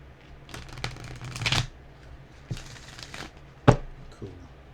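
A deck of cards is shuffled up close in a few quick riffles, with soft papery flutters and a sharp snap near the end, in a quiet room.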